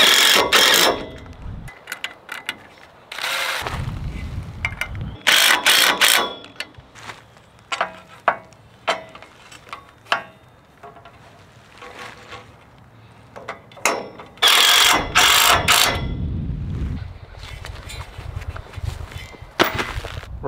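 A ratcheting clamp is cranked down to bend the arch of a beehive kit, giving loud clicking bursts and metallic clacks in irregular clusters, with quieter handling noise between them and no talking.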